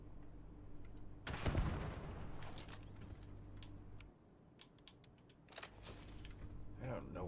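Grenade detonation in the Starfield space game: a sharp loud burst with debris crackle early on, amid game hum and scattered clicks and gunfire-like pops, at moderate distance.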